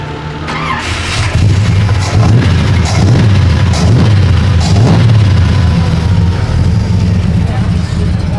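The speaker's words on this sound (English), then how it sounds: "now we're going to crank this little beast up and we'll listen to this big block purr" A Chevy big block engine in a Holden Torana cranks and fires up, then settles into a loud, deep, throbbing idle with rhythmic revs, close by at an outdoor car display.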